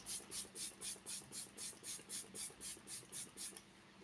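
Quick bursts of makeup setting spray hiss repeat in a steady rhythm, about a dozen short pumps close up, with faint handling noise underneath.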